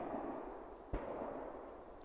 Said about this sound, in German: das sind diese Explosionen und manchmal waren die so richtig laut